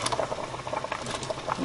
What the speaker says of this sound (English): Okay, the water is boiling.